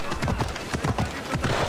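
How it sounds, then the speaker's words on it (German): A horse gallops in Assassin's Creed Odyssey, its hooves pounding a steady, fast rhythm close by over a dense background of game ambience. "Mit meinem kleinen Pferd."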